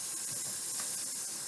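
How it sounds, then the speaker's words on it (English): Tap water rinsing a big kitchen scoop, a steady close hiss of running water throughout with no breaks. "let me rinse that off real fast"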